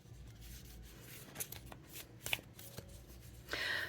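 Green Witch Oracle cards are shuffled close by, a continuous papery riffle and rub with a few crisper flicks, fairly quiet and heard alone.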